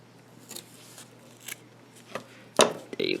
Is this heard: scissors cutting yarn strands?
yes